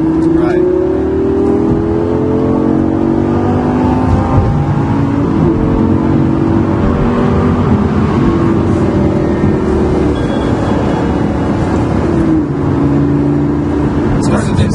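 A Lamborghini LP 560-4 accelerates on a test drive, its engine note rising in repeated sweeping pulls through the gears, loud and close, with someone talking over it.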